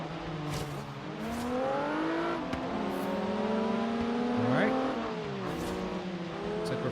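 Race car engines in Forza rev and shift through rising and falling gear pitches, with another car close behind, loud and continuous while a player talks over them.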